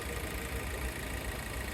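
A Proton S70 with a 1.5-litre turbocharged four-cylinder i-GT engine running steadily at idle, a smooth, even low hum with no clatter, heard close and alone.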